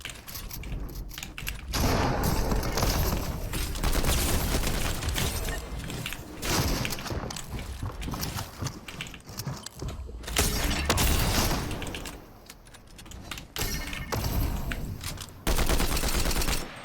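Rapid Combat AR gunfire in a video game, loud, close and continuous, with brief pauses between long bursts and mechanical clicks throughout.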